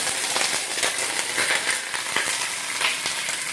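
Sausages caramelizing in a hot pan give off a steady, close sizzle with scattered crackles and pops running throughout, with no talking.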